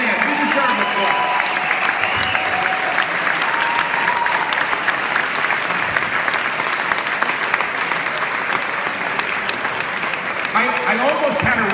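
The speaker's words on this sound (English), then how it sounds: "We deserve applause." Teachers and school staff in an audience receive a long round of applause, dense and loud clapping throughout with scattered voices and cheers mixed in, swelling again near the end.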